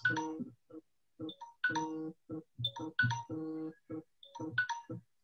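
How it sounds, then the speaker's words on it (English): A melodic phone-style alarm tone plays a repeating chiming tune in short bursts in a clinic, clear and fairly close, with no talking. "this was my alarm which was ringing after 25 minutes"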